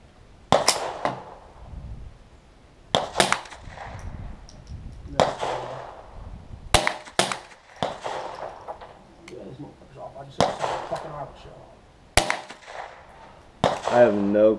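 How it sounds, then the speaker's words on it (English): Sharp, isolated cracks from a .22 caliber gun, about eight shots fired at irregular intervals of one to three seconds, with people talking quietly between shots outdoors. "But I'm about to shoot a little bit. It's my 22."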